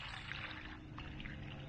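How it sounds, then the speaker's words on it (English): Compost tea poured from a bucket into a deep planting hole for a Blue Java banana plant, a short, steady watery pour close by with no talking. "Now I'm going to go ahead and pour this in here."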